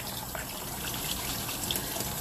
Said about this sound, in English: So, when the water runs clear, you know you're done washing.